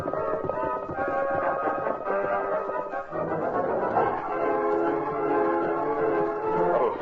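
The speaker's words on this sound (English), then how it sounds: "heard the sounds of the train climbing Backbreak Hill" A steam train laboring up a steep hill in an old-time radio drama, heavy rhythmic chugging under sustained tonal whistle-like drones, loud and continuous with a brief dip midway.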